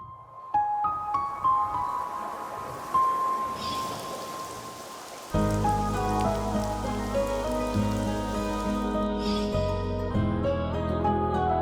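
Rain patters and splashes steadily on a surface, with a sustained musical tone running underneath throughout.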